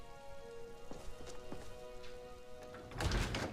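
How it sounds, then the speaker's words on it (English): Rain pattering steadily in the video game Skyrim, with a louder burst near the end that may be distant thunder rumbling, over a faint tonal background. "I'm pretty sure I hear thunder"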